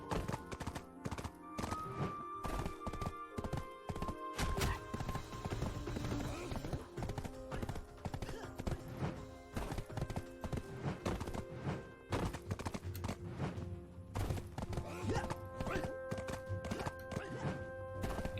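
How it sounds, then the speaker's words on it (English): Horse hooves gallop in a steady, quick clip-clop rhythm while a rider travels in the online game Black Desert Online. The loud, even beats continue throughout, with faint tonal background sounds underneath. "Get on my horse and ride!"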